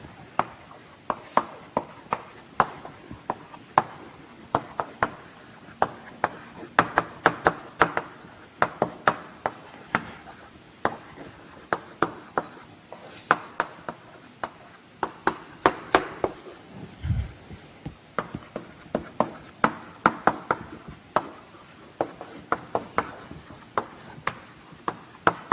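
Chalk or marker strokes on a board in a lecture on mitosis and meiosis, a long run of quick, close taps and scratches in uneven rhythm, with no talking over them.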